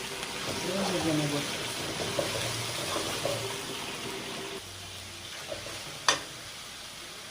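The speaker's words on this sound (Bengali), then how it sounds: "ভেজে নেব।" Garlic and ginger paste frying in a pan for a Bengali mung dal and katla fish head ghonto, a steady close sizzle under a speaking voice, with soft stirring scrapes and a brief clink near the end.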